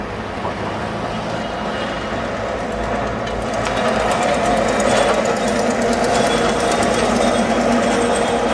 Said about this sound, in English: Oh, a bus.